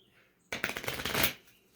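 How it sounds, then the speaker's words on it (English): A deck of angel message cards is shuffled close up, one quick riffling burst of flapping card edges that fades out. "And an angel message. I'm going to shuffle these stinkers."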